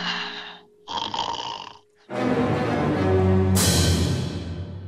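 A narrator's voice imitates a giant's loud snoring with two rumbling snorts followed by a long, raspy, growling snore that swells louder near the end, close and dominant.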